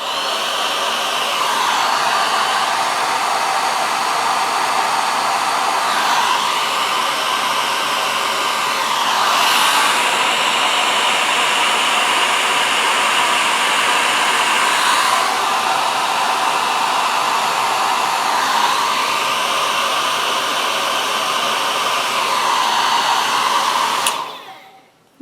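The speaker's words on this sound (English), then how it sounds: "I might just use my hairdryer and see what happens." A hair dryer blowing steadily and loudly for a long stretch over alcohol ink artwork, its whine wavering slightly as it moves, then cutting off abruptly at the end.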